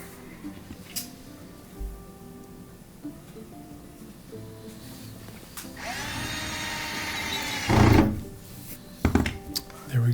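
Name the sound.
driving Torx 15 screws into a Miele washer front panel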